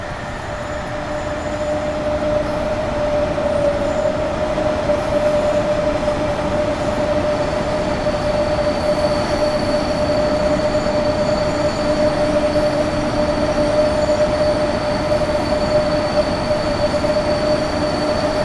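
A Freightliner Class 90 intermodal freight train in Train Sim World 6 runs steadily with a loud continuous rumble, a sustained tonal whine on top and a faint squeal from the wheels, unbroken for the whole stretch.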